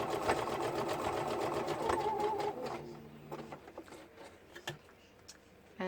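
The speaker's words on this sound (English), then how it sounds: "So I am just going to run a bit of stitching here." A sewing machine stitches fabric scraps in a fast, even mechanical chatter for about three seconds, then slows and stops, leaving a few light clicks.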